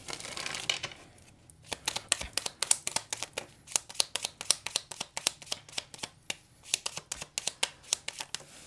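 Tarot cards are shuffled by hand in quick, crisp riffles and slaps, a rapid rhythmic run of sharp papery clicks heard up close with no talking.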